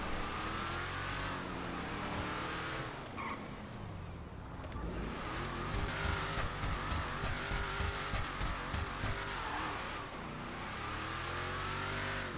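A racing car engine in GTA 5 Online roars loudly and continuously, revving and shifting through gears with a buzzing, high-pitched whine.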